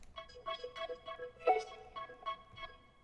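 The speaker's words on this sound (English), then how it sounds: "what it's doing is it's analyzing the vocal and then it's applying that EQ curve to this other audio" Vocoder effect that imposes a vocal's EQ curve onto a separate audio texture, giving a tonal, synthetic, speech-like pattern of rhythmic pulsed syllables over a droning bed for a few seconds, with no plain speech.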